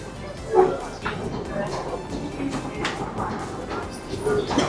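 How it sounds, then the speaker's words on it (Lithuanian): A dog barks and yips on a busy Hong Kong street, short barks rising over background city noise while people nearby talk. "Žiūrėk, koks šuo."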